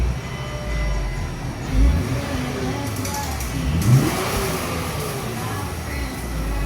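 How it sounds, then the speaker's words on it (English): A 350F with a newly installed exhaust revs up near the listener, two rising bursts over a rumbling idle, while voices talk underneath. "rev it for you guys for me."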